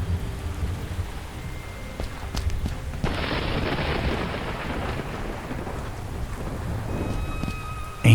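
A thunderstorm in the Cthulhu adventure game Gibbous: steady, dense rain pours throughout while a deep roll of thunder swells and rumbles beneath it.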